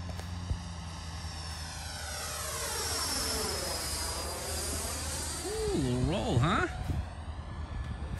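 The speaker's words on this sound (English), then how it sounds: "Taking off with half flaps." A 3D printed 90mm electric ducted-fan RC jet takes off with half flaps, its steady high whine swelling as it accelerates past, with a brief pitch-bending sweep near the end as it climbs away.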